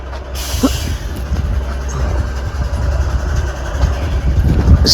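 Truck carrying a poultry feed load pulled over at a rough roadside in Karnataka, with steady low engine rumble and a brief hiss of air release, continuous and fairly close throughout.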